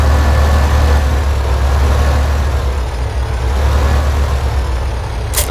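A Farming Simulator tractor engine rumbles loudly and steadily as it backs up to a trailer. It holds a heavy, even drone up close, with a faint whining tone riding above it.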